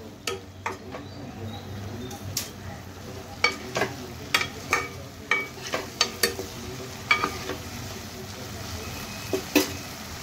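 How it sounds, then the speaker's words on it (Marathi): Ground spice paste is added to softened, steamed vegetables in a pan for lava idli. A spoon scrapes and taps the pan in a steady series of sharp clicks over a soft background sizzle. "आता आपण जे वाटण केलं होतं ते मी आता वाटण घालते।"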